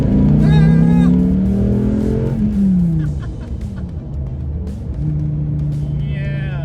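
A 2015 Dodge Viper SRT with an 8.4-liter V10 roars loudly up through the revs, its pitch climbing, easing, then rising again as it accelerates close by, with a faint voice underneath.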